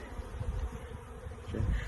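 A mass of package honeybees drones steadily during hive installation, a close, continuous low buzz with a brief swell near the end.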